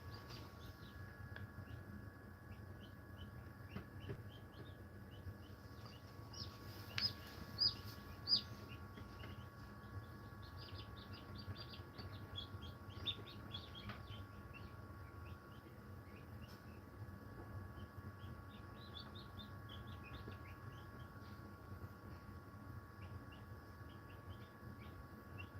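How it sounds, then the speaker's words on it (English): Newly hatching chicks inside eggs give faint, high, scattered peeping chirps over a low steady background hum, with a few slightly louder cheeps in the middle. "but then you start to hear a little chirping going on"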